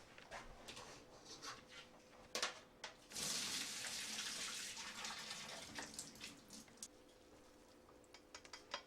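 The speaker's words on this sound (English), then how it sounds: "My pasta is done, so I'm going to drain this." Water from cooked pasta being poured into a kitchen sink, a steady rushing splash lasting several seconds between lighter clinks and knocks, fairly faint.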